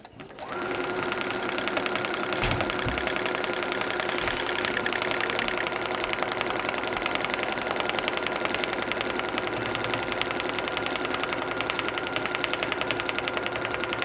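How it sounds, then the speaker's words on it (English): A sewing machine runs continuously at a steady, fast rhythmic chatter during free-motion quilting, close and loud, with no pauses. "my machine sounds like I should go faster"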